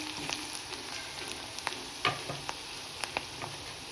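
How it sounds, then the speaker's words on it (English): Coarsely ground ginger, garlic and chili fry in hot oil in a pan for Punjabi chole, giving a close, steady sizzle with scattered crackles and pops. "ginger, garlic and chili that I had coarsely ground. Just let it fry for around 30 seconds or so"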